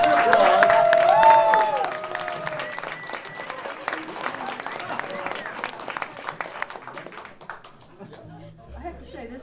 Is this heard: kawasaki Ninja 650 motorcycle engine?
no